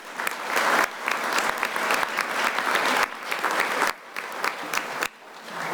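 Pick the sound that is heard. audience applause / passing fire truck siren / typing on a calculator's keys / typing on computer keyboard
audience applause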